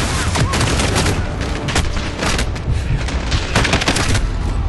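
Heavy gunfire exchange in the video game Call of Duty Modern Warfare, a dense, loud, continuous barrage of rapid shots and bursts that fills the whole stretch without letup.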